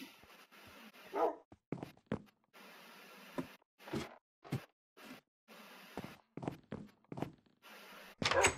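A dog gives scattered barks and yips among short knocks and thumps, separated by brief silent gaps, moderately close and without talk.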